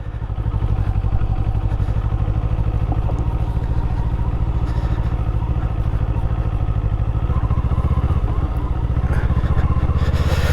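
A Kawasaki Eliminator motorcycle engine pulses loud and close while riding on an afternoon ride in Idaho, a steady throbbing drone that rises in pitch as the bike accelerates near the end.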